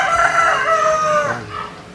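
A gamefowl stag crowing in a backyard inside a subdivision, one loud, close, drawn-out cock-a-doodle-doo that trails off, with faint clucking underneath.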